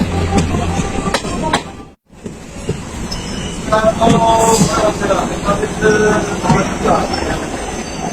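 A local train rattles and clacks steadily from inside the carriage while passing through the Lataguri forest toward Siliguri, with a brief dropout early on, loud and continuous throughout.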